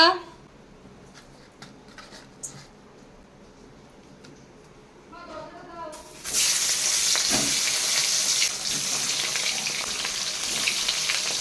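Snakehead fish hits hot oil partway through, setting off a loud, bright, continuous sizzle that keeps crackling to the end after a quieter stretch with faint kitchen clatter and a brief voice.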